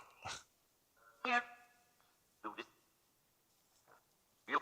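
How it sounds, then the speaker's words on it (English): Faint, distant barks of a dog in the woods come in about five separate short bursts with quiet gaps between them. "shouting at the dog that's barking"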